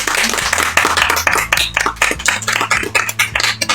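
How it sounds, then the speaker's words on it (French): Applause from a crowd, dense and loud at the start, thinning toward the end into scattered individual claps. "Merci d'applaudir ma petite ménagère préférée, Lucho."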